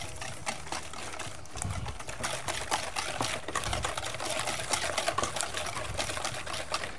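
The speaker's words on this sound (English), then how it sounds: "And just whisk that up." A whisk beats a custard of cream, sugar, cinnamon and vanilla extract in a bowl, making quick rapid clicking and sloshing strokes that go on steadily throughout, close by, with no talking.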